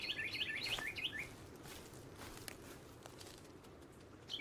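Ambient birdsong in the survival game Sons of the Forest: a few quick chirps and tweets early on and again at the end, faint over a steady low background hum.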